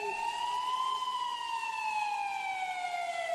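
Police sirens wail steadily at a distance, a single rising and slowly falling tone holding for several seconds over a quiet background, with no one speaking.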